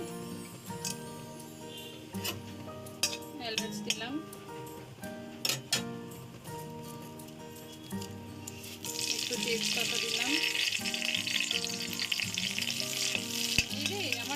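Ghee added to a pan of boiling milk for vermicelli begins a loud, steady sizzle about two-thirds through, after a stretch of voice and tonal background sound; talking runs through.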